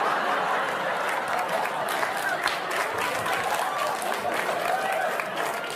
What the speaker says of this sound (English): Don't applaud that much.